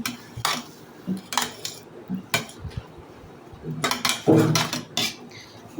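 A spoon scrapes and clinks against a pot of khichuri as it is stirred, in a series of uneven clattering bursts with short pauses between them, close by and with no talking.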